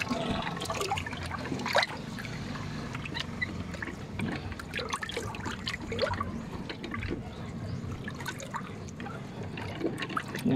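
Water pours and trickles out of a biosand filter in an uneven, splashing stream with scattered drips, heard up close with no speech.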